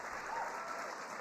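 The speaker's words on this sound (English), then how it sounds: "can we just give another round of applause to the President of the United States for his leadership on this issue?" An audience at a White House social media summit applauds the President, a dense, even wash of clapping from a crowded room, steady and sustained for the whole moment.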